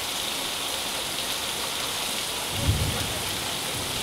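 Steady heavy rain pours down during a thunderstorm, with a brief low rumble of thunder partway through, the hiss of rainfall loud and constant.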